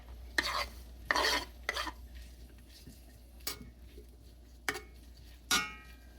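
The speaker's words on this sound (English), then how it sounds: "we're going to cook these sausages for about 3 minutes" Kielbasa sausages in olive oil in a skillet over medium heat, a faint low sizzle punctuated by several distinct scraping stirs and clinks of a utensil against the pan, with no voices.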